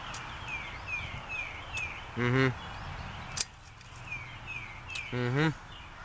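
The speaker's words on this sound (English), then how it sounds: "my bird friends are coming out and singing" Birds sing at dawn, chirping and trilling in short repeated phrases, a few calls louder than the rest, over a quiet outdoor hush.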